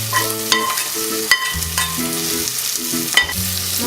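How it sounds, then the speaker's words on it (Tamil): Green peas and paneer sautéing for a pulao in a pan, a close frying sizzle with repeated rhythmic scrapes and taps of a spatula stirring, fairly loud, with no voices. "பட்டாணி போட்டு 1 நிமிஷம் வதங்கட்டும்."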